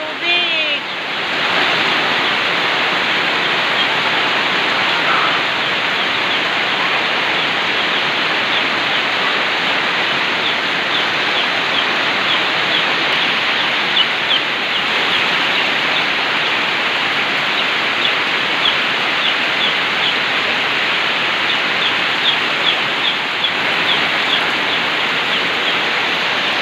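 Floodwater rushes across a highway during heavy rain, a loud, continuous, roaring wash of water close by, with faint voices underneath.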